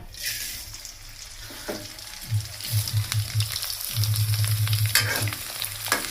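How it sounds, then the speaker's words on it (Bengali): Colourful snacks frying in hot oil in a wok, a steady close sizzle and crackle with bursts of bubbling and occasional stirring scrapes, no talking. "কড়াইতে তেল দিয়ে দিছি এখন দিয়ে দিবে এগুলা"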